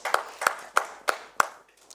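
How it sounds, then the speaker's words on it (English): Five slow, evenly spaced hand claps ring out close and crisp at an authors forum, then trail off into quiet with no talk. "Let's give him a round of applause for that."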